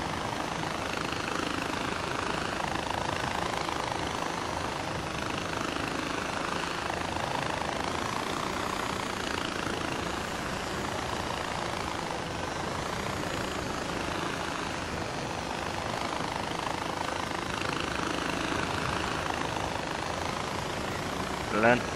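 A helicopter in the video game Far Cry 4 flies at high altitude, giving a steady, dense rotor-and-engine roar that holds at an even level for the whole stretch.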